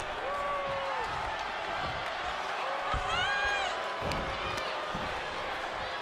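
Capacity arena crowd at a WWE 2K23 wrestling match, a steady roar of cheering and whooping with slams landing, under commentary-like voices throughout.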